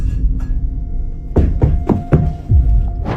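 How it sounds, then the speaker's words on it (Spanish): A room door in an upstairs floor slams shut violently, giving a run of heavy, close wooden bangs and thuds, about five in quick succession, over a faint steady hum. "la puerta de una de las habitaciones se cierra violentamente"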